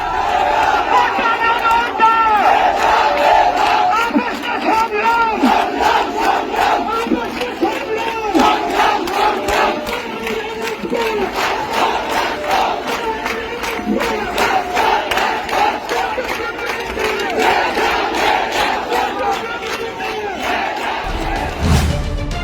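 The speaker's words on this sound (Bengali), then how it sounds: "রাজশাহী বিশ্ববিদ্যালয়ের বিক্ষোভ মিছিলের একটি ভিডিও শেয়ার করে" A large student protest march at Rajshahi University fills the air with loud, steady rhythmic chanting from a packed crowd, voices rising and falling in unison almost continuously throughout.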